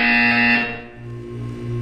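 A sustained electronic buzzer tone from the game Portal 2 sounds alone for about half a second, then drops to a lower steady hum that continues to the end.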